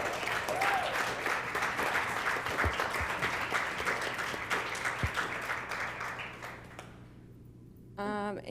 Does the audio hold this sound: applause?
yes